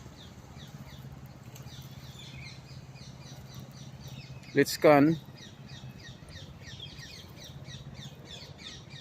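Birds at Regent's Park Lake, a man-made lake in London, chirping and calling repeatedly in the background, fairly faint, with a short burst of speech partway through.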